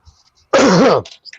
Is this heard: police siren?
no